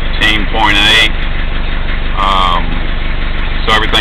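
An Isuzu 4BD2T diesel engine idling close by, a steady rumbling drone running unbroken under bursts of speech from a man nearby.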